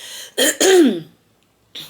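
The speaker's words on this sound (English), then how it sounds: "I feel like I coughed through this whole reading." A woman clears her throat with two harsh, close bursts followed by a rasping vocal sound, then a brief pause before another breathy noise.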